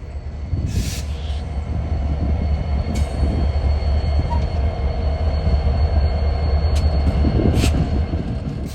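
A heavy train hauled by an SD70ACE locomotive rumbles steadily past, loud and continuous, with wheel squeal and metallic rail noise over a deep low drone.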